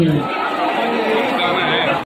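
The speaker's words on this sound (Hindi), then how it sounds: "गाइस, देख सकते हो कितनी भीड़ है।" Dense crowd chatter fills the space at a concert at Pragati Maidan, a steady wash of many overlapping voices, close and loud, continuing without pause.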